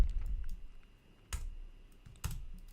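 Fingers type code on a computer keyboard in short bursts of quick, close clicks, with two sharper, heavier key strikes standing out and quiet gaps between runs, without any talking.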